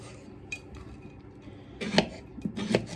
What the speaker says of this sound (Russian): Пока я режу это все дольками.